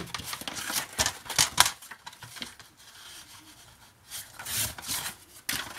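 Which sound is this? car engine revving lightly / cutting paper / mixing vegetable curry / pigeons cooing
cutting paper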